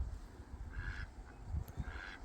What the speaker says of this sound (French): j'entends des bruits de canards